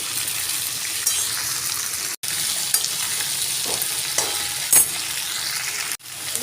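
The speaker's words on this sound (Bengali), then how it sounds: "আমি এগুলো ভালো করে কষিয়ে নেব নেড়ে চেড়ে" Mixed vegetables fry in a pan with a steady, dense sizzle while being stirred, with occasional scraping clicks and brief pauses, close and loud throughout.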